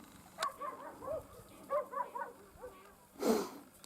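A male laika dog yelps and whines in short bursts, with a louder bark near the end, over faint background voices.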